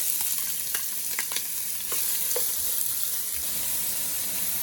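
Close, crackling sizzle of onion and chilies frying in hot oil, with scattered pops and occasional stirring scrapes over a constant hiss.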